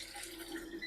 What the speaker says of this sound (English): So I'm gonna rinse the rice.